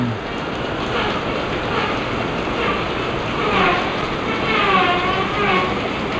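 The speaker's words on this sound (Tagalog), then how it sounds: "Ang lakas ng ulan." Heavy rain pours down steadily on a workshop under construction, a dense, even roar of downpour that holds at a constant loudness throughout.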